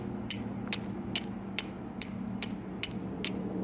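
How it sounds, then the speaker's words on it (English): Steel striker scraped against the sharp edge of a flint rock to throw sparks, heard as about eight short, crisp scraping strikes at a steady rhythm, close up over a low background hum. "what you're going to be doing is trying to scrape the edge of that striker against that sharp edge right there"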